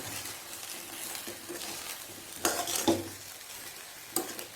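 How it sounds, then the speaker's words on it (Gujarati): A methi muthiya mixture is stirred in a pan: a light sizzle beneath scraping spoon strokes, with a few louder clinks and scrapes against the metal. "પછી આને વ્યવસ્થિત મિક્સ કરી દેવાનું."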